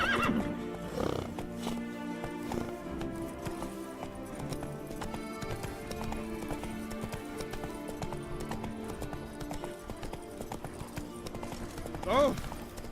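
Roach the horse in the video game The Witcher 3 gallops with rapid, loud hoofbeats under a musical score, and a sharp neigh rises near the start and again near the end.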